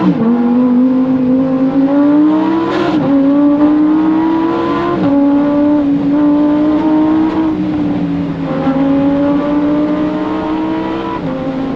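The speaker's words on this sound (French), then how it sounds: "C'est un moteur qui hurle, qui s'exprime." Loud, close Lamborghini V10 engine revving hard, its high-pitched howl rising and falling through several surges over about twelve seconds, with no speech.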